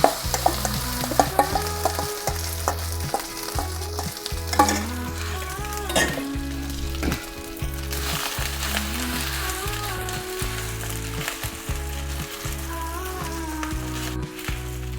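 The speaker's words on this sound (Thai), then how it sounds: "เนี่ยกระทะเราก็เริ่มร้อนพอดีครับ เราจะทำการเอาข้าวใส่กระทะนะครับ" Steady loud sizzling and frying of rice with egg and crab in a hot wok, with repeated scraping and stirring strokes, continuous throughout, no talking.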